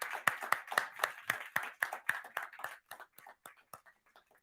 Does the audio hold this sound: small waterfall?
no